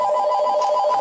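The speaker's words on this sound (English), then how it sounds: "Something's ringing there." A telephone rings steadily in a room, a bright continuous warbling bell tone sustained loudly throughout with no talking over it.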